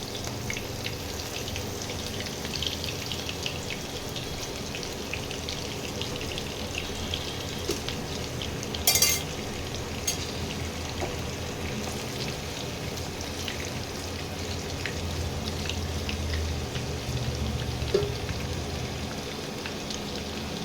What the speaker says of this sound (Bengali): একটু লাল লাল করে এটাকে ভেজে নেব।